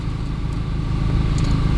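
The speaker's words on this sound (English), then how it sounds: "The fan is start working already." The radiator cooling fan on a 2014 car runs steadily alongside the idling engine, a constant loud low drone with no break over the short stretch.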